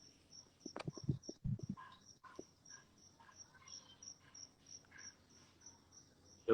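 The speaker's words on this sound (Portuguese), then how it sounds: "Tem um grilo por aí." A cricket chirps indoors in steady, evenly spaced bursts that keep a regular rhythm throughout, with a few soft thumps and handling noises near the start.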